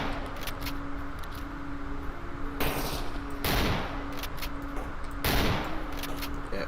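A shotgun firing in the video game STALKER Anomaly, three loud, close blasts spaced over a few seconds, each leaving a brief ringing tail over a steady low background hum.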